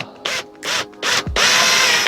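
A power drill with a small bit bores a pilot hole in wood for a picture frame: three short whirring bursts, then one longer sustained run, loud and close.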